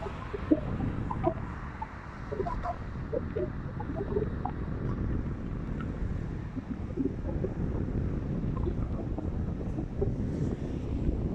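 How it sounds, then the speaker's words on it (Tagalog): Strong, cool wind in Abu Dhabi buffets the microphone, a constant rough roar with gusty low rumbling throughout and no talking. "Lakas ng hangin dito, sarap, lamig."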